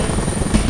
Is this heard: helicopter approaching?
yes